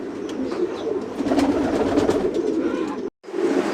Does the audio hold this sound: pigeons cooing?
yes